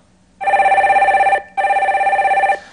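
Telephone ringing in a live stock-market call-in broadcast studio as the next caller is connected: two long electronic rings with a short gap between, loud, close and clean, with no talking.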